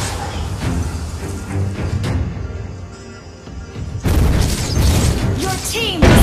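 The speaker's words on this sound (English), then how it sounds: "Your team destroyed a turret" A turret is destroyed in a video game amid booming explosions and crashing impacts, dense and loud bursts stacked over a continuous battle din, with a short quieter stretch before a heavier blast sequence.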